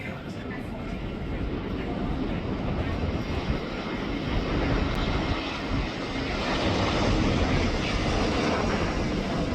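A low-flying airplane roars overhead, a loud, broad rumbling drone that swells and holds steady as it passes close above.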